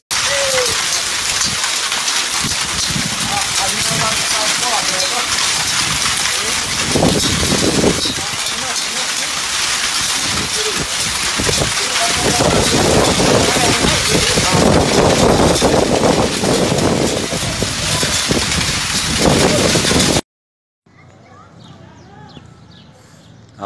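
A hailstorm with heavy rain and strong wind sweeps through Assunção, ice pellets and rain pounding loudly and continuously on surfaces with scattered sharp impacts, then cutting abruptly to a quieter, muffled stretch near the end.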